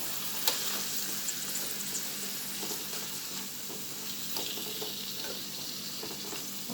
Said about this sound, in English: I can add a few pieces of the sweet pepper now just for the flavor, so it gets fried up in the oil.